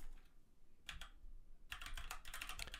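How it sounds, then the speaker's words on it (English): Someone types on a clacky computer keyboard at a Mac, producing quiet bursts of rapid key clacks separated by a brief pause. "Please excuse the clacky keyboard there."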